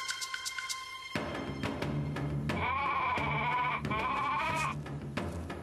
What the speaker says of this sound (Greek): το πρόβατο κάνει μπε